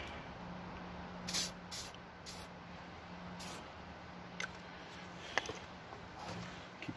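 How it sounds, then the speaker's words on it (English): WD-40 is sprayed onto threads in a few short, faint hissing bursts, with light handling clicks between them. "Spray it with a little WD-40 to help clean it up."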